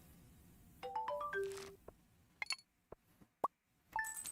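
Stardew Valley telephone ringing inside the farmhouse: a game ring of short, bright electronic tones in quick rising steps, then scattered clicks and plops, another sharp chime, and a final burst of tones, clear and close with no talking.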